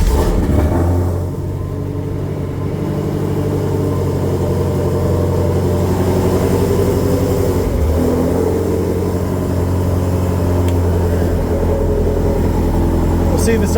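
A car engine idles steadily at low rumble before driving off, a continuous near hum with slight fluctuations throughout.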